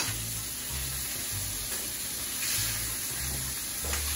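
Food frying in butter in a pan for fish tacos, a constant close sizzling hiss with faint scrapes of stirring, under a low rhythmic hum.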